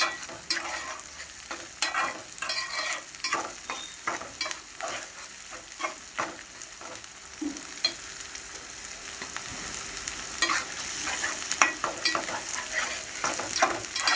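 Onions stirred and fried in a pan for a Godavari-style curry, giving a continuous crackling sizzle broken by frequent spatula scrapes and clacks, close and steady, with no voices.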